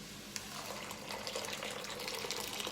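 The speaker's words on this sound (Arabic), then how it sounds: "ميه سخنه اهي من الكتل" Hot water from a kettle splashes onto a cup of soaked, washed wheat, a soft continuous pour with gurgling detail, close and fairly quiet, with no talking.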